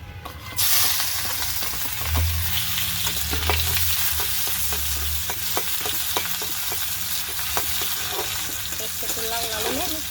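Onion fries in a pan with kalmi greens, making a loud, continuous sizzle and hiss close by, with repeated sharp scrapes and clicks from stirring throughout.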